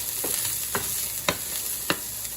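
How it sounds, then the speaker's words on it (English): Steady oil sizzling with garlic in a hot pan, with a few sharp clicks of stirring or tapping every half second or so, close and fairly loud. "That's the oil sizzling because the garlic makes it."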